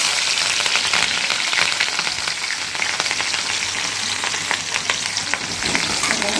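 Green chilies and garlic frying in sesame oil in a pan, with a loud, steady, dense sizzle and crackle that runs throughout, close up, with occasional stirring scrapes and no talking.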